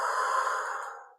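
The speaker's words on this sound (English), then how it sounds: "So take like 3 deep breaths." One slow, deep exhale during a breathing exercise, close and airy, fading away gradually into silence.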